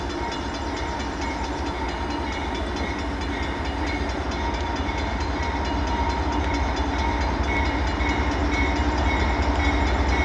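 A Norfolk Southern freight train heading southbound rolls steadily past close by, its heavy continuous rumble and wheel noise growing slightly louder over the full length with no talking.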